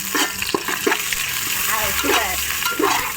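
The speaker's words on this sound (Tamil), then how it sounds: "போட்டு இப்போ நல்லா மிக்ஸ் பண்ணால் நம்மளுக்கு கமகமன் ஸ்மெல் வரும்." Ginger garlic paste is stirred as it fries in a pan for chicken biryani. A loud continuous sizzle carries repeated scraping stirs in an uneven rhythm throughout.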